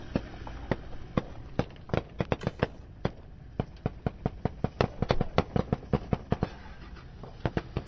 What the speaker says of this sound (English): That reporter's got gunshots going off.